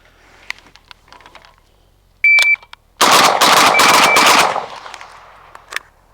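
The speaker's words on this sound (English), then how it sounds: "on the beep, I'm going to come up 2 rounds on each" A WASR 10/63 rifle in a heavy-iron-sights competition stage: an electronic timer beeps once, then after a short pause comes a fast, loud string of rifle shots over about a second and a half, followed by fading echo and a faint click.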